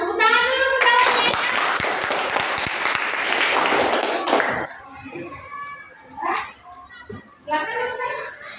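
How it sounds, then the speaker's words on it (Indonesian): Schoolchildren clap their hands together in a classroom with their teacher, producing a lively burst of quick, scattered claps that stops after about four seconds, followed by children's chatter and an adult voice. "Tepuk tangan dulu untuk kalian"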